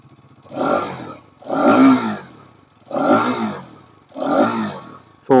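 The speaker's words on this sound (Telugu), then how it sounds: "సో ఇది ఈ బైక్ యొక్క ఎగ్జాస్ట్ నోట్." A Hero Karizma XMR 210 motorcycle, a 2024 model, revs loudly and up close in four evenly spaced throttle blips, each a deep, growling swell that rises and falls back before the next.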